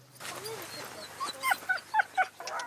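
Sled dogs being harnessed give out a string of yips, whimpers and short barks, fairly close and moderately loud, with soft rustling underneath.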